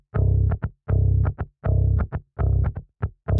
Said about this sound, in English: If I leave it off, you'll hear the full DI sound.